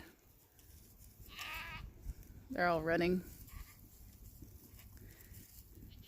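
Goats and kids bleating on a farm in bright sun, one clear cry mid-clip with fainter bleats around it, under a voice talking over outdoor ambience.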